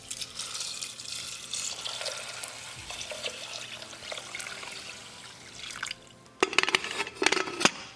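Water runs steadily, then a louder, splashier stream pours into a pot near the end, close by with no speech.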